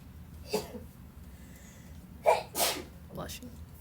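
A single sharp sneeze from a person in a classroom, preceded by a few short breaths and followed by brief speech-like sounds.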